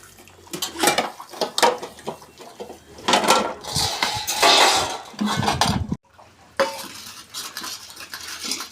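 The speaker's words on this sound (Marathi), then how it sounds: "भांडी घासून झालेत बघा" Kitchen pots and dishes are scrubbed and washed, with irregular clanks, metallic knocks and scraping rubs arriving in bursts, close by, with short pauses between.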